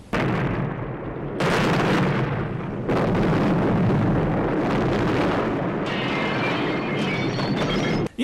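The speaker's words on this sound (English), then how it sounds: "Yes, that is a 24-hour establishment that did just blow up." A gas station blows up in the film First Blood, a loud sustained roar of explosion and fiery rumble in several heavy surges over about eight seconds, with no voices.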